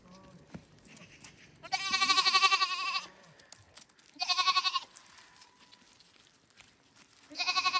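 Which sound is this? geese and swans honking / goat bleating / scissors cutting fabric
goat bleating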